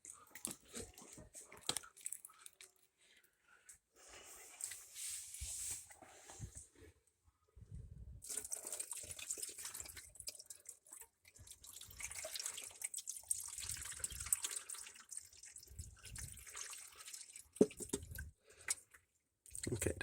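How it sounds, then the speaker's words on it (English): Water poured by hand into the drain pan of a leaking KitchenAid KRFC704FSS02 refrigerator, a close splashing trickle in bursts with short pauses, no talk. "let me go pour some water into the drain pan"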